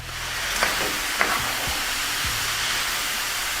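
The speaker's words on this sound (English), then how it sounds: "you want to cook the rawness of those spices, just a little bit" Ground beef sizzles steadily in a pan with black pepper, salt, garlic, cumin, paprika and cayenne, a continuous close frying hiss broken by a few soft scrapes and clicks as it is stirred.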